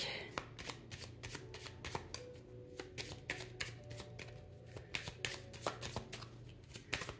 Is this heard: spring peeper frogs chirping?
no